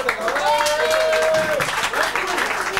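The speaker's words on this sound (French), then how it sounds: "Applaudissements." Applause at a French party night with dancing and a DJ, clapping running steadily through the whole stretch, mixed with crowd noise and voices on top.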